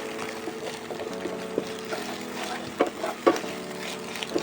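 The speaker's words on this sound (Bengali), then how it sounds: "ডিমটাও বেশ ভালো করে ভুজিয়ার আকারে আমি কিন্তু ভেজে নিচ্ছি" Egg frying in a pan while being stirred and broken into crumbles for a dhaba-style dim tadka, a steady close sizzle broken by a few sharp spatula scrapes and clinks.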